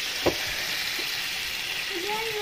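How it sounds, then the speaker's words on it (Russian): Water hits a hot stainless steel deep frying pan and sizzles steadily with a soft frying hiss, a few faint clinks and a brief tone near the end. "Я добавляю сюда немного воды. Она тут же кипит."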